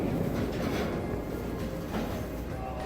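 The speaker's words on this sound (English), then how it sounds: "I was greeted by a freight train which had stopped for a while, and eventually departed again with an abrupt clang" A freight train rumbles heavily and continuously at a station in Shimo-Suwa, central Japan, as it moves off, with a dense low roar and faint rail clatter but no clear single clang.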